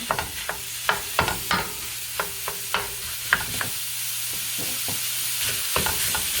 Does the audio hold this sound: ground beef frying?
yes